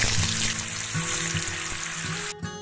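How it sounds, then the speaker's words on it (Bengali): Paneer cubes frying in ghee and refined oil make a steady, close sizzle with crackling bubbles, running continuously until a brief dip near the end. "পনির ভেজে নেব।"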